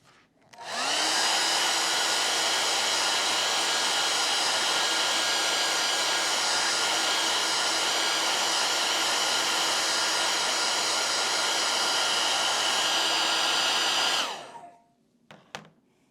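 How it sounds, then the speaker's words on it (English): A hair dryer blows steadily on wet paint, a loud continuous whirring rush lasting about thirteen seconds before switching off, followed by a couple of faint clicks. "I guess I need to do a little bit more blow dry."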